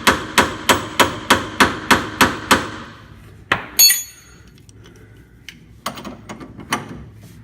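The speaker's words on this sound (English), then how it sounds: "If it gets really hard like it is right now, you just want to get hammering." A hammer strikes a Dodge Ram Pitman arm eight times in a fast, even rhythm. Each ringing metallic blow is close and loud. A few scattered clanks and tool clinks follow.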